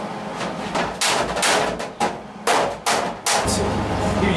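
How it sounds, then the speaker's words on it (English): Sharp metallic hammer blows on a dolly over a weld on a 1960–1966 car front fender during rust repair, about eight ringing strikes in an uneven rhythm, loud and close. "we're going to hammer on the dolly. We're going to hammer right where our weld is"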